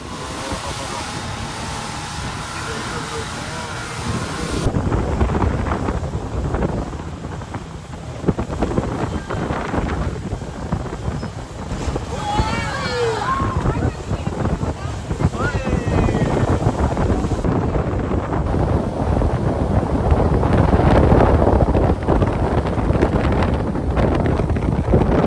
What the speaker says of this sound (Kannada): ಈಗ ನಾವು ಸ್ಪೀಡ್ ಬೋಟ್ ನಲ್ಲಿ ಟೀ ಟಾಪ್ ಐಲ್ಯಾಂಡ್ ಕಡೆ ಹೋಗ್ತಾ ಇದೀವಿ.